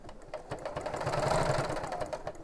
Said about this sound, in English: I'm just going to sew along the line between number 1 and number 2